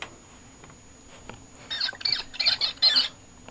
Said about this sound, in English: That's a mousey.